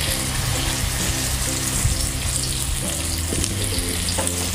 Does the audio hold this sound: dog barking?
no